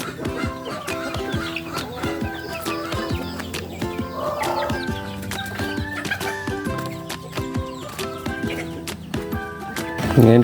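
Farm chickens cluck and chatter around a feeding area, with many overlapping short calls at close to moderate distance, plus scattered knocks and scuffles, and no talking.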